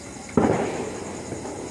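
A single sharp firecracker bang bursts during Diwali night celebrations, followed by a decaying rumble and faint distant crackle.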